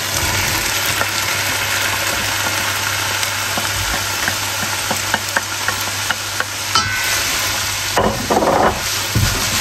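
Ground beef fries in a pan, a dense steady sizzle with scattered scraping clicks as it is stirred, close and constant throughout.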